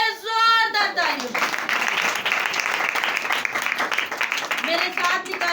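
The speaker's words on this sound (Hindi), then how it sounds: "यीशु के लिए जोरदार तालियां।" Loud applause from a congregation at a women's prayer meeting, clapping for Jesus, with a steady dense roar of hands lasting several seconds between brief stretches of voice at the start and end.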